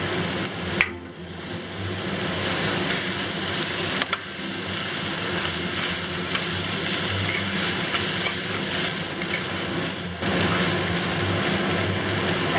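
Napa cabbage, green onion and rice cakes stir-frying in a hot wok, with a steady loud sizzle throughout and a few sharp scrapes and clacks of the spatula tossing the vegetables.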